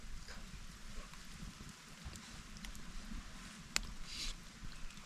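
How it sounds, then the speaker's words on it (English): Light drizzle falls in the woods with soft, scattered patter on leaves and a shelter, a quiet, even hiss of rain with a few closer drips standing out. "right now it's drizzling"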